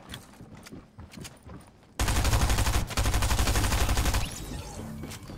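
Rapid bursts of video game gunfire ring out loud and sustained for a couple of seconds, then ease off, following a quieter stretch of in-game sound.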